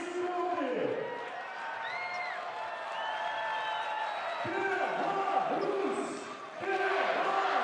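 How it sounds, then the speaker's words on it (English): A basketball arena crowd cheers and roars throughout a Belarus vs Spain game, a loud sustained swell of voices with whoops, plus a commentator talking over it. "Crowd are well and truly in this."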